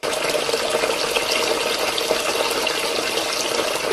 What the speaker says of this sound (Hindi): मैंने ही सिंक का पानी खुला छोड़ा था ना?